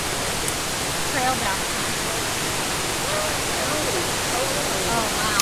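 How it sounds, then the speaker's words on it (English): Waterfall on Oil Camp Creek in the Mountain Bridge Wilderness, a steady broadband rushing roar from start to end with faint birdsong over it. "Oh wow, look at the waterfall."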